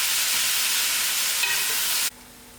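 Brinjal and tomato chutney cooking in a pan, a steady, fairly loud broad sizzle and simmer hiss that continues for about two seconds before cutting off abruptly to near quiet.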